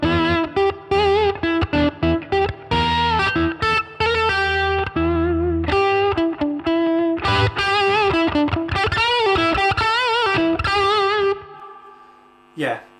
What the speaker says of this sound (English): nice spanky Marshall dirty tones